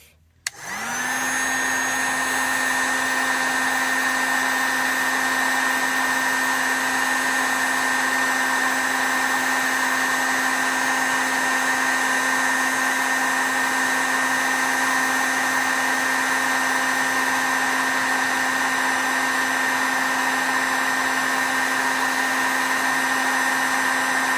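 A steady high-pitched blower whine and rushing air start abruptly and run continuously at constant loudness, close and unbroken, with no talking.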